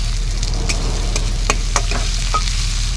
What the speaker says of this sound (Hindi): अभी तेल हमारा गर्म हो चुका है, तो तेज पत्ता डाल दे रहे हैं पहले, उसके बाद ये प्याज डाल के इसको लाल करेंगे थोड़ा